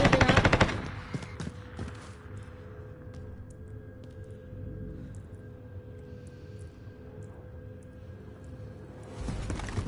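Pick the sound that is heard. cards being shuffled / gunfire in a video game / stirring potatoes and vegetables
gunfire in a video game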